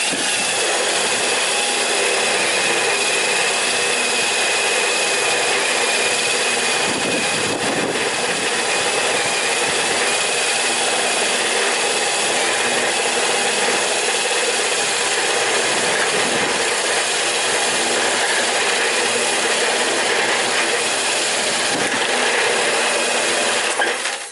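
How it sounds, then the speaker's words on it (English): Continuous loud whir of an 18-volt Ryobi cordless drill with a dull bit boring into wood, a steady grinding buzz with brief dips as the bit bites and pauses. "And drill some holes to this thing."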